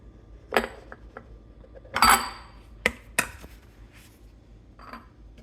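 Almond butter being scooped into a glass Tupperware container, giving a few separate clinks and taps of utensil on glass, spaced irregularly and close up, with no talking.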